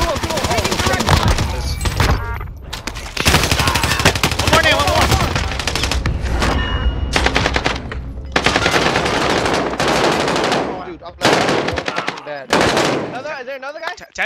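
Dense automatic gunfire in Call of Duty Modern Warfare 2019, loud rapid bursts of machine-gun fire with short pauses, near and continuous, mixed with game sounds and some voices.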